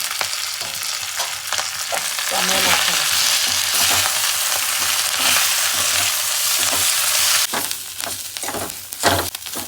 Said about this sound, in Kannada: ಒಂದೆಲಗ ಹಾಕಿ ಈಗ ಫ್ರೈ ಮಾಡ್ಕೋಬೇಕು ನೀಟಾಗಿ